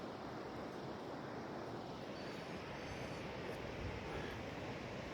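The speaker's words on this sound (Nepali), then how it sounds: "तल खोला बगिरहेको छ।" A mountain river rushes below a high bridge between steep hills in Nepal, a steady broadband roar of flowing water with some wind, continuous and fairly distant throughout.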